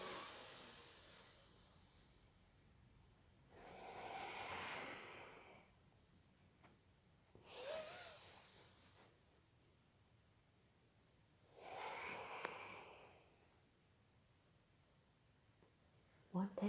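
Slow, deep yoga breaths, inhales and exhales in soft airy bursts a few seconds apart, faint and close, between quiet gaps.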